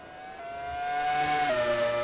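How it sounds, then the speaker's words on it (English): A Ferrari race car engine in a Pacific Grand Prix racing game, screaming at high revs with a steady whine that dips and shifts as it slides in a drift, loud and alone. "The Ferrari engine in that drift slide."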